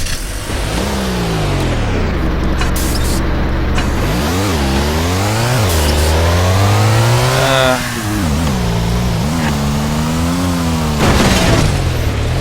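Vehicle engine in the video game Heroes and Generals, loud and close, revving up and down through repeated gear changes with rising and falling pitch, droning steadily the whole time.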